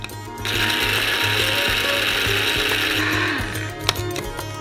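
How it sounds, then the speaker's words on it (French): A kitchen blender grinds dried, cut-up shells into powder, giving a loud, continuous whirring and rattling that holds steady for several seconds before slowing near the end. "Et on balance au mixeur."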